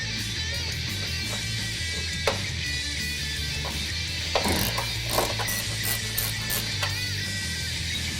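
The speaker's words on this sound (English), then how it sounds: "We're going to remove the lower 2 bolts now to hold the lower cooler support in place." A ratchet clicks in quick bursts while lower bolts come off the intercooler support of a 2011-2014 Ford F-150 3.5L EcoBoost, with a few metallic clanks between the runs of rapid ticking.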